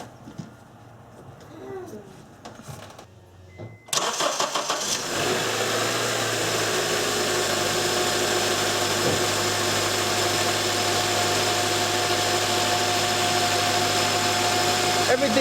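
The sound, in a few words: Honda/Acura car engine starting and idling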